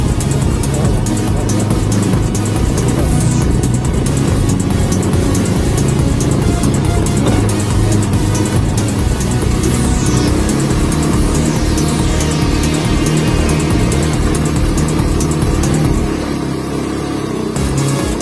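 A car's engine rumbles loud and close along a road on a trip to Seulibang, a steady roar that swells and eases for the whole stretch before thinning slightly at the end.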